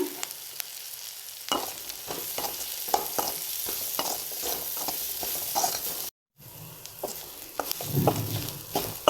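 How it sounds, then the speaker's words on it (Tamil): Cumin, sambar and fennel powders frying in oil in a pan for masala sundal, with a steady sizzle and frequent scraping stir strokes up close, and a brief cut to silence partway through. "கொஞ்சம் ஜீரகத்தூள் சாம்பார் தூள் சோம்பு தூள் எல்லாம் சேர்த்து எண்ணெயில் வதக்கிங்க"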